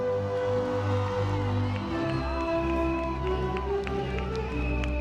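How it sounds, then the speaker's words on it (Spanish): Audience at a drag queen gala during the Vinaròs carnival applauds and cheers, a dense loud crowd roar that holds steady throughout with steady tonal music or hum underneath. "¡Aplauso!"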